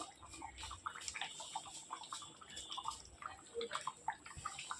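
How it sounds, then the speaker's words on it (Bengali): Fish curry made with rohu bubbling in a pan, a steady faint simmer of small pops and burbles continuing throughout with no voices. "সমস্ত মাছ দিয়ে আমি ভালো করে ফুটিয়ে নিচ্ছি"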